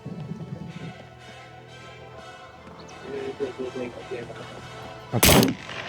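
During a SCUM match, one loud, sharp gunshot cracks out near the end, after a stretch of quieter in-game ambience and rumbling activity.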